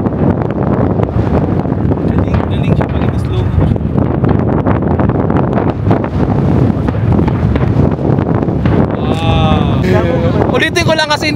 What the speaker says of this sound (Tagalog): Malakas ang hangin na.